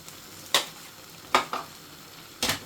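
A spatula stirs a chicken and vegetable stir-fry thickened with cornstarch slurry in a pan: three or four sharp scraping clatters spaced irregularly over a low, steady sizzle, close up with no voices.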